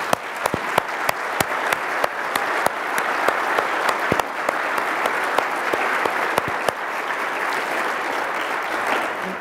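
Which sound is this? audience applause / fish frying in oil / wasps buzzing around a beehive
audience applause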